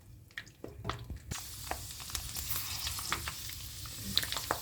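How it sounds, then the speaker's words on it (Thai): Pork skin with fat attached frying in hot oil, a steady close sizzle and crackle with scattered pops that swells after a quieter opening and continues throughout. "เราจะเอาแบบติดมันมาทอดก่อน"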